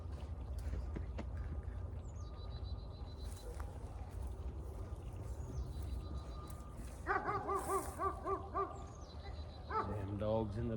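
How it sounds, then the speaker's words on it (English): Dogs bark and yip in the background at a lakeside fishing spot, in bursts of repeated barks off in the distance, mixed with steady outdoor noise and occasional voices. "damn dogs in the background"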